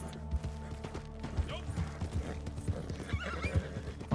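Horse hooves clip-clop in a steady rhythm and a horse neighs, in the video game Red Dead Redemption 2, with creaks of tack and faint game ambience running throughout.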